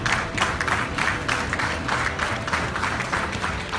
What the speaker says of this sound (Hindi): इजलास में वजीर आजम पहुंचे तो शुरका ने डेस्क और तालियां बजाकर पुरतपाक इस्तकबाल किया